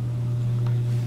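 A vibrating table runs steadily beneath a bowl of model mixture, giving a constant loud mechanical hum that is unbroken through the whole moment.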